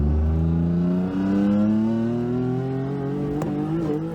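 A turbocharged Nissan 350Z widebody, making around 430 horsepower at the wheels, accelerates hard with a loud, rising engine note that climbs steadily for several seconds, heard up close with a brief sharp click near the end.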